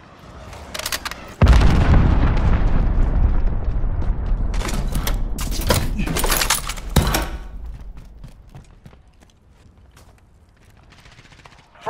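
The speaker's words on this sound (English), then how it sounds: "Allied cruise missile away." A cruise missile strike in Call of Duty: Modern Warfare lands with a sudden heavy boom followed by a long rumbling roll and a second sharp blast, loud and close, fading into scattered gunfire and debris.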